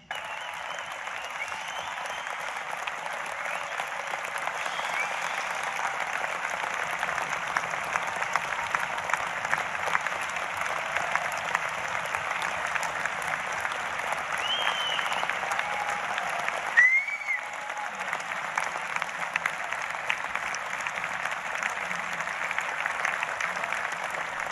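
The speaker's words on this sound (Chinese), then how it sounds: "当然了，掌声也是少不了的。" A large crowd at a Queensland University of Technology graduation ceremony in Australia applauds continuously for nearly half a minute. The clapping is dense and fairly distant, with a brief dip near the end before it swells again.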